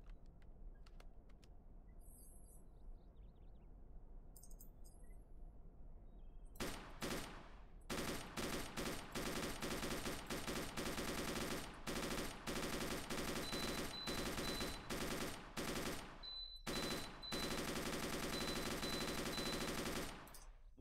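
Sustained bursts of automatic gunfire pour into a BMP armored vehicle in ArmA: Armed Assault, loud rapid rattling volleys with brief pauses between strings of shots, following a quiet lull at the start.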